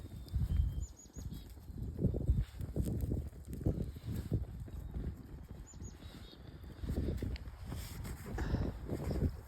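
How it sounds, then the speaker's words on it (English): Wind gusts outdoors beside a wood fire, buffeting the microphone in uneven low rumbling bursts that rise and fall throughout, with no talking. "Wind's kind of picking up."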